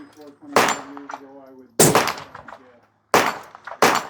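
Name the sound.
rifle shot, Mark V Accumark, 25 caliber, 135 Berger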